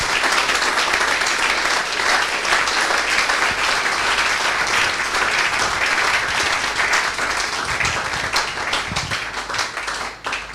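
A church congregation at a Sunday service applauds loudly and continuously in a dense wash of many hands clapping. It eases off slightly near the end.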